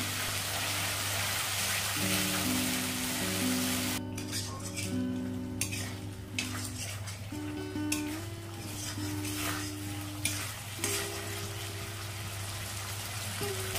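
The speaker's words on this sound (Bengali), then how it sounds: "বারে বারে জল দিয়ে দিয়ে কষলে মশলাটা খুব ভালো কষা হয়" Masala spice paste frying in a pan with splashes of water, a dense continuous sizzle close by, with scraping stirs and occasional utensil clinks over a steady background hum.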